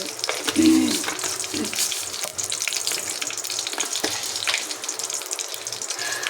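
Mustard seeds hit hot oil in a pan and fry with a steady, close, hissing crackle and scattered pops that continue throughout without a break.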